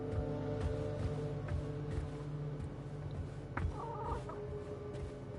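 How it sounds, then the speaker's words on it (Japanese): A chicken clucks in the video game Atomic Heart, with soft intermittent clucks set against a steady droning background hum. "ニワトリがいるな。"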